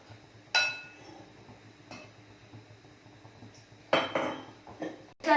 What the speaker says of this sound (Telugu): ముందు బ్యాటర్ కలిసిన వరకు మనం మిక్స్ చేసేసుకోవాలి